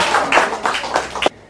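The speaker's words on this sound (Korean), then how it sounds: "축하 박수를 쳐줘야죠" A small audience claps in congratulation, a short burst of a few quick, uneven handclaps close by that stops abruptly.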